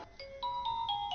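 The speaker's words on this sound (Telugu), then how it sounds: "It's ringing." Mobile phone ringtone chiming in a short rising sequence of clear electronic tones, close and fairly soft, with no voices.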